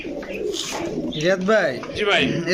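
Pigeons for sale, giribaz, colouring and racer breeds, cooing in soft rolling repeated calls up close, with someone talking over them throughout.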